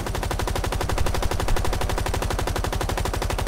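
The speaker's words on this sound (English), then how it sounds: "I'm laying down suppressive fire" Rapid automatic gunfire in a shooter video game, a loud continuous stream of evenly spaced shots close up, with no talking over it.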